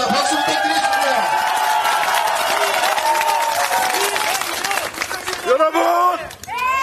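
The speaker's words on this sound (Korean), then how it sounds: "박수 부탁드리겠습니다" Crowd at a political campaign rally in Gunsan, a loud continuous roar of clapping and cheering with voices rising through it, then a brief dip as amplified speech begins near the end.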